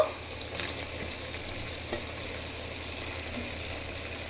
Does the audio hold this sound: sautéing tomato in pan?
yes